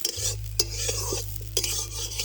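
Raw rice grains being stirred and dry-fried in a pan for a Bengali fish-head muri ghonto, with scraping spoon strokes and metallic clinks over a soft sizzle and a low steady hum beneath.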